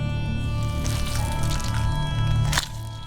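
A wet, squishy squelch as a coin pouch is pulled from a swollen corpse's throat in The Witcher 3, close and fleshy over a steady tonal hum, ending in a brief sharp slurp.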